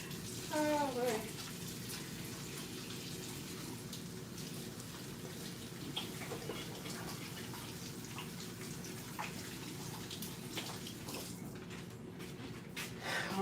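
Water runs steadily while soapmaking equipment is rinsed off after a hot-process soap batch, a continuous splashing hiss lasting throughout, with brief voices and handling clatter at the start.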